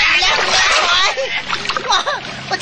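Water splashes loudly and close by as people swim, with broad churning bursts. Children's and adults' voices shout and talk over the splashing throughout.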